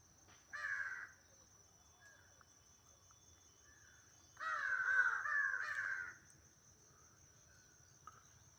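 A wild crow gives a short caw, then a longer run of harsh caws a few seconds later, moderately close over a steady background hum of insects.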